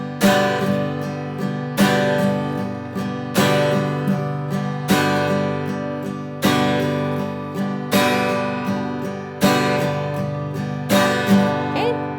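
Acoustic guitar strummed in a steady four-beat pattern, with chord hits repeating every second or so and sharper accented strokes on beats two and four, played alone and clearly up close.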